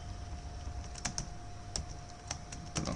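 Keys tapped on a computer keyboard while entering a value into an Excel cell, a handful of crisp, close clicks spaced irregularly over a faint steady hum.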